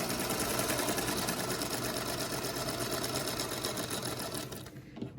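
A sewing machine runs steadily stitching quilt block squares with a quarter-inch seam, a dense continuous whir lasting several seconds before cutting off near the end.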